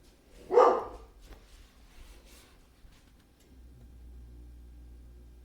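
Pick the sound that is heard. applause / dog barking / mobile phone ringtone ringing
dog barking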